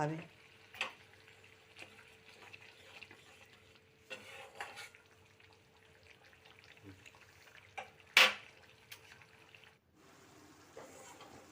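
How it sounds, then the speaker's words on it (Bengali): Spice paste (masala) fries quietly in oil in a pan, with soft sizzling, scattered stirring scrapes and a few sharper clinks of utensil against the pan, faint overall with brief pauses. "মশলাটাকে সুন্দর করে কষিয়ে নিতে হবে"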